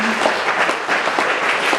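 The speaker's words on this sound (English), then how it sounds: "let's give these beautiful people a round of applause" Audience applause at a Madison rally in support of Standing Rock comes as a steady, dense wash of clapping from a crowd, loud and continuous throughout.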